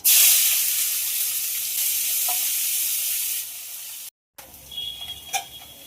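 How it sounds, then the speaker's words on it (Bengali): Chopped onion fries in hot oil for a fish curry with a loud, steady sizzle, close and continuous, which cuts off abruptly and gives way to a quieter kitchen clatter. "পেঁয়াজ ভাজা হয়ে গেছে"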